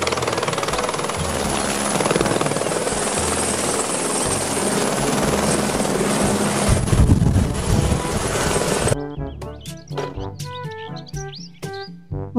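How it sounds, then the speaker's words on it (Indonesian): A helicopter's loud, continuous rotor and engine drone fills most of the stretch, swelling slightly toward the end before giving way abruptly to chirping birdsong. "Helikopter."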